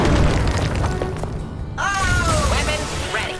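A booming magical impact with bright shimmering tones rings out as a Consecration spell is cast in the card game Hearthstone, loud and brief, with a voice talking over it.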